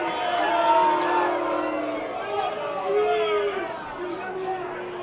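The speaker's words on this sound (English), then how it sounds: "Fans booing, but it looked pretty good from up here." Baseball fans at a Welland Jackfish versus Brantford Red Sox game booing as a sustained, steady crowd noise, with sliding voiced tones rising and falling over several seconds and no clear talk on top.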